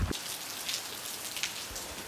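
Heavy rain pours steadily in a village in Mirpur, Azad Kashmir, a dense, even hiss of drops on surfaces with a few brief louder spatters, close and continuous with no voices.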